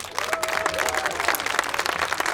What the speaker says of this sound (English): Let's have a rousing round of applause for Scott Milliken.